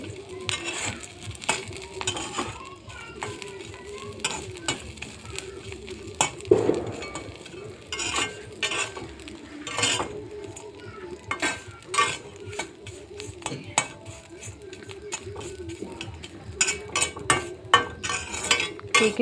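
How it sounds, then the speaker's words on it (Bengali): A utensil scrapes and clinks quietly in a pan while dried fish (shutki) is stirred and fried, giving irregular taps and rattles over a faint background hiss. "এটাকেও ভেজে নেব ভালো করে।"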